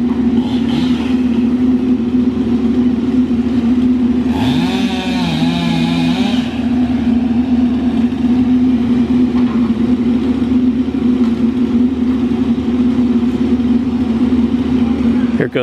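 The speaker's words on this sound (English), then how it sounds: "Now I've also got a skidder coming too." A forestry skidder's diesel engine rumbles steadily on a county road being cleared of trees. A rising, whining pass cuts in partway through, all loud and close throughout.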